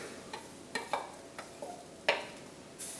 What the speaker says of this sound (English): we're going to add all this in and start stirring this in and slowly let this kind of gel together